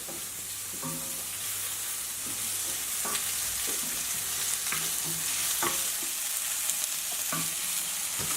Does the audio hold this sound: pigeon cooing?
no